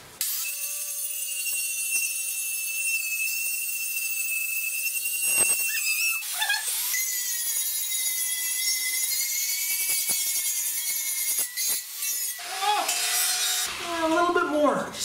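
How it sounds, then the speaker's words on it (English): Grinder working a weld on a propane tank wood stove, a steady high whine with scraping and grinding rising and dipping as it bites the metal, close and continuous. "let's grind this weld nice and flashy"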